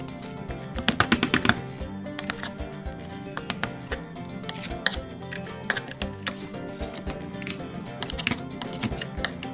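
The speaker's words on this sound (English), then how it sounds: "Now I'm filleting the meat right here off of the humerus itself" A knife filleting deer meat off the humerus of a front leg during home butchering, with irregular soft taps, scrapes and cuts close up, steady and unhurried with no talk.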